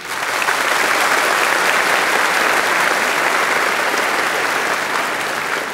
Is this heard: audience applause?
yes